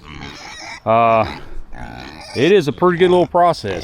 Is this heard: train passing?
no